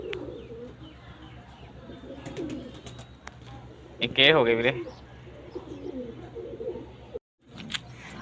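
Pigeons coo softly in the background while someone talks nearby, with a louder burst of cooing partway through.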